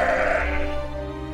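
Sheep high on a glacier tongue give a single loud, close bleat that wavers and fades over about a second, heard on its own without any talk.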